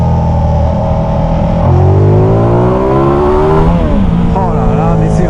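Ducati XDiavel Black Star motorcycle revs hard, its V-twin note rising and falling through several sweeps, loud and close, with a voice talking over the engine.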